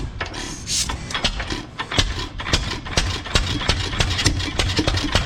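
Hit and miss stationary engine running just after the choke is taken off and the ignition switched on: close, loud, rhythmic chuffing and clanking beats pulsing steadily throughout, no talk.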